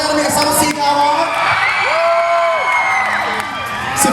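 A large crowd at a live fan event screams and cheers continuously, loud and close, with high-pitched whoops rising above the roar throughout.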